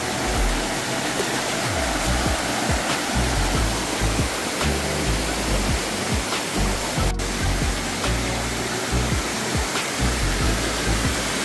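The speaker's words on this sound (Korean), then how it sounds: "이것이 이제 쌍곡 폭포입니다." Ssanggok waterfall in the Chilbosan valley at Goesan roars steadily and close, a dense unbroken rush of falling water with no one talking.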